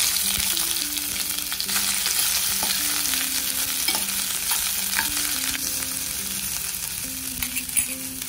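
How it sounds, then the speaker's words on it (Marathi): Onion sautéing in a pan for a masala brinjal curry, a steady soft sizzle with repeated stirring scrapes throughout, close and continuous with no talking. "कांदा असा छान परतून झालेला आहे"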